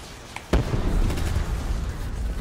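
Upgraded PPSH submachine gun, The Reaper, firing in a Zombies video game: a sharp onset followed by a sustained, dense rattle of rapid automatic fire that holds loud and steady to the end.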